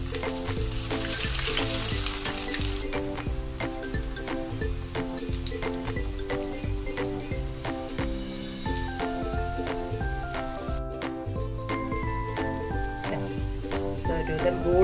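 Banana papaya rolls frying in hot oil, a steady close sizzle that runs the whole time, with light clinks and taps of a utensil over music.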